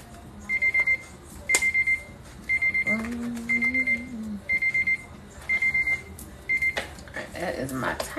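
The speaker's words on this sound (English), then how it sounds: "That is my timer." A kitchen timer alarm sounds in repeated short bursts of rapid high beeps, about seven evenly spaced pulses, fairly loud and close, with a person speaking briefly in the middle.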